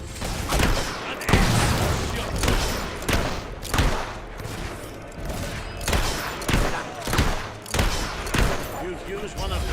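Mortar fire and battle explosions from the video game Fable III thud repeatedly in heavy, rhythmic bursts amid dense combat noise, loud and close.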